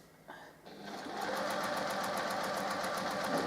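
A sewing machine stitches quilt fabric with a 1/4 inch seam, a steady close whirring hum with rapid needle ticking that starts after a brief pause and runs evenly to the end.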